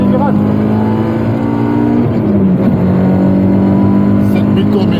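A Peugeot 306 S16 engine revs hard while driving, a loud sustained drone whose pitch holds high and then shifts as the revs change, with a voice talking over it.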